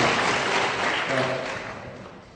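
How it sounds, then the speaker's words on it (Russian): A conference audience breaks into brief, dense applause that starts loud and gradually fades over a couple of seconds, with no talking over it. "Давай хлопаем."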